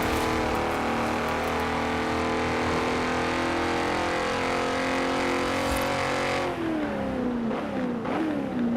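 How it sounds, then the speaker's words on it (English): A 1950s-style car with a modified BMW M3 engine in Forza Horizon 4 revs hard and steadily at high pitch, then the tone drops and wavers as it shifts and backs off, loud and close with no talk. "Judging by the engine sound, it kind of sounds like a modified BMW M3 sound"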